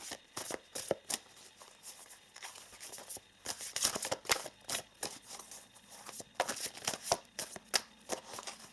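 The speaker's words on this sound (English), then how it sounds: "let us pull some oracle cards as well" A deck of oracle cards being shuffled by hand, with repeated quick riffling bursts and soft slaps in an irregular rhythm, close and fairly quiet, with no talking.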